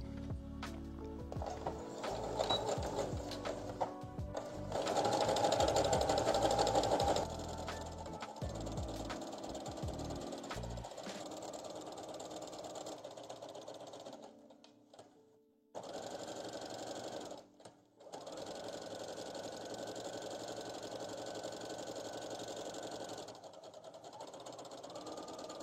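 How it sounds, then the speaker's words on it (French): Sewing machine stitching fabric for a smocked top, a close, rapid mechanical chatter in several runs of varying speed, with brief pauses between stretches of stitching. "Et puis on va coudre normalement."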